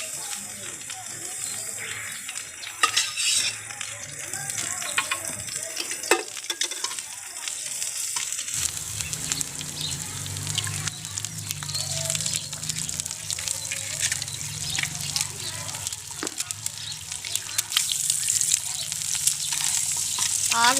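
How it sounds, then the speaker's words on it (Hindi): An egg fries in ghee on a very hot griddle, a crackling sizzle that swells partway through with scrapes and clinks of a utensil, while someone talks intermittently over it. "ये देखें, जैसे ही अंडा ऊपर गया फ़ौरन ही पक गया, तवा ही इतना गर्म था"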